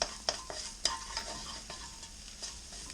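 Rice is stir-fried in oil in a pan: a soft, steady sizzle punctuated by sharp clicks and scrapes of a utensil against the pan, close by and free of talk.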